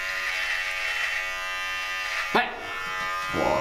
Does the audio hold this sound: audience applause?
no